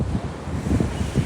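Strong wind buffets the microphone on a beach at Addalaichenai, with a low roar of surf rolling underneath in continuous, uneven gusts.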